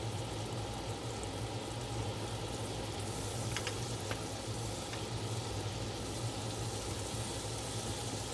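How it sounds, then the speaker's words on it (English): Prawns frying in a hot skillet, a steady close sizzle with faint crackles throughout and no talking. "Then add in the prawns. This is a fast process. Heat 20 seconds on each side,"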